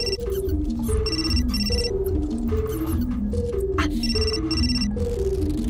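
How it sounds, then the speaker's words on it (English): Mobile phone ringing in the game Still Life 2, a loud electronic ringtone repeating a stepped melodic pattern in regular bursts for several seconds, close and alone. "My phone."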